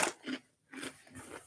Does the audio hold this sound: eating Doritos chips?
yes